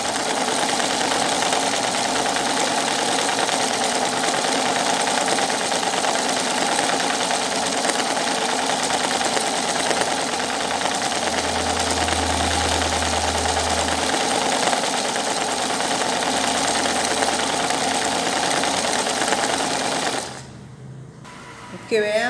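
A home sewing machine runs steadily, sewing straight stitches to embroider a flower on fabric, with a continuous loud close whir that stops abruptly near the end.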